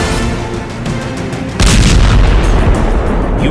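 A Russian drone or missile strike exploding in Ukraine: rumbling, roaring noise gives way to a loud, deep blast halfway through, followed by a sustained heavy roar.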